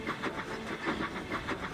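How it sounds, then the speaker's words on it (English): Magic Railroad train sound effects: a faint, rhythmic clickety-clack of rolling wagons with soft hissing, repeating steadily over a short stretch. "Magic Railroad sound effects."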